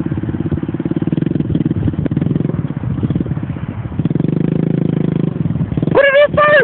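Pit bike engine running off-road in mud, a close, loud buzzing rattle that rises and falls with the throttle, with a voice talking over it near the end.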